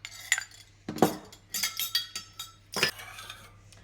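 Beef stock being stirred into a mixture in a pan over low heat, a peppercorn steak sauce in progress, with a utensil clinking and scraping against the pan in several short bursts, fairly close and with no talking.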